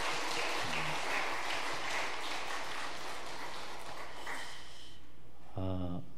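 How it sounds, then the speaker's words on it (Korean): A church congregation applauds during an afternoon worship service, a broad wash of clapping that fills most of the clip before thinning out, with a brief voice near the end. "박수 한번 하시죠."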